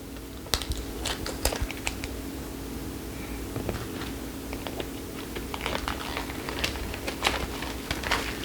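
Plastic wrap is peeled and torn off a cardboard deck box of cards, giving close, irregular crinkling and crackling bursts over a soft steady background with no talking.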